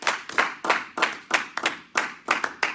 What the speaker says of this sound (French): Est-ce qu'on peut acclamer très fort pour Jésus-Christ?